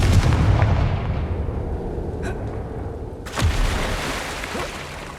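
Confringo fire spell from the Hogwarts Legacy video game, a booming blast that dies into a low rumble, then a second sharp burst hits near the middle and rolls away.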